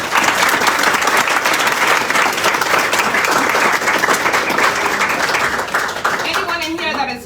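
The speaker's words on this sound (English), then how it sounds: "Please give them a round of applause." Loud, close applause from the audience at an achievers ceremony, dense clapping sustained for about six seconds before thinning out, with faint voices mixed in as it fades.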